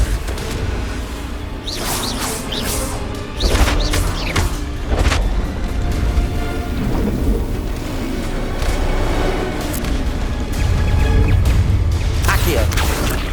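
Confringo fire spells cast in Hogwarts Legacy combat set off repeated booms and crashing blasts. Whooshes and impact thuds fill a busy, continuous battle mix.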